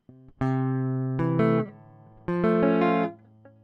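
Augmented guitar chords ring out in separate strums with pauses between them, each held briefly before fading, clear and close with no voices.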